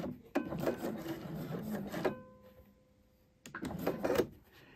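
A sewing machine stitches a patch pocket in two bursts of steady whirring with a quiet pause between, the needle stopping down before the second run.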